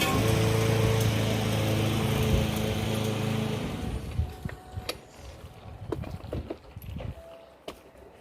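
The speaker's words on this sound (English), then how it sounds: "obviously the neighbor's mowing." A neighbour's lawn mower drones steadily for several seconds, then drops away, leaving scattered knocks and clatter outdoors near a shed being torn down.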